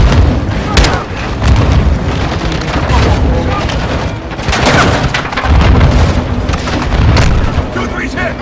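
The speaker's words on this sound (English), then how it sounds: "Incoming! Take cover! They're launching grenades!" Grenade explosions and gunfire in the Call of Duty Modern Warfare 2 shooter game, repeated heavy booms and shots over a rumbling battlefield, with soldiers shouting during the combat.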